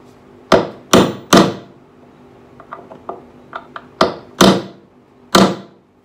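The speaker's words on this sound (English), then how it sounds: "Not countersink, I'm using a nail set." Sharp hammer blows on a nail set driving a nail into a wooden post while making a sideboard: three loud strikes, a cluster of lighter taps, then three more heavy hits, close and alone.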